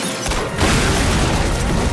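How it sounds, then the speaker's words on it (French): A big film explosion blows up a cabin, giving a loud, sustained rumbling blast with crackling debris that stays dense and forceful throughout. "Rome fait sauter la cabane devant une explosion présentée par Coca-Cola"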